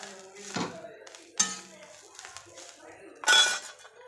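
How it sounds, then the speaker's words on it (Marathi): Metal utensils clink against a pan while chickpea greens are stirred and sautéed, giving a few scraping, ringing knocks under a voice speaking. "भाजी परतून घ्या"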